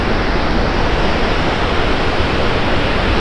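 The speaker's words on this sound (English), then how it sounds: "Great time to see the falls from both sides because there's water coming over" Victoria Falls at high water, seen from the bridge gorge between Zambia and Zimbabwe, roars as a loud, steady, unbroken wash of falling water that fills the whole clip with no voices.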